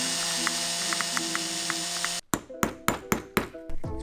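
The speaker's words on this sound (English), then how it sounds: "I'm just gonna drill down into the thread or down into the bolt a little bit and tap a Torx bit in there" A hammer taps a Torx bit into a drilled bolt on an RM250 dirt bike, with about seven sharp metallic strikes in an uneven rhythm after a steady background hum.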